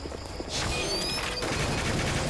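Sustained burst of video-game gunfire in BlackShot M Gears, a mobile FPS shooter, starting with a sharp onset and continuing as dense, loud rapid fire with a faint game tone beneath.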